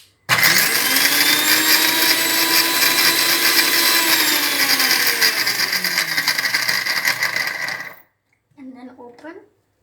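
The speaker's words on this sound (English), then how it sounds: "I'm going to put the coconut into the mixer" A mixer grinder blends coconut in a loud, close, continuous whirring burst that ends abruptly, followed by a moment of silence and a brief voice.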